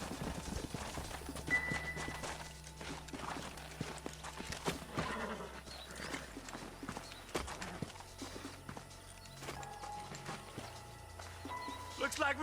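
Horses' hooves clip-clop in the video game Red Dead Redemption, irregular hoofbeats at a walk under a low ambient hum and music, with voices talking at times.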